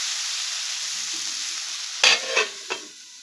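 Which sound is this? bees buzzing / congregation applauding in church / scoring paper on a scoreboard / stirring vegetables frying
stirring vegetables frying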